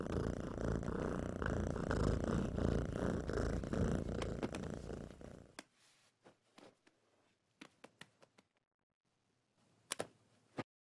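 A cartoon character's voice imitates a cat purring, a dense rolling purr that fills the first half, then drops away to a few faint scattered clicks and taps in near-silence.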